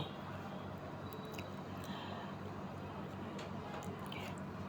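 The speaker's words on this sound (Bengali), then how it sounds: "এখন মশলার সাথে নেড়ে চেড়ে সুন্দর করে মিশিয়ে নেব" Boiled taro leaves being stirred with spices in a pan make faint, wet squishing and scraping sounds over a low, steady background.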